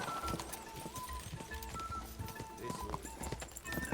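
Horse hooves clip-clopping in Kingdom Come Deliverance 2, a steady run of hoofbeats with an occasional whinny mixed in, heard close and continuous.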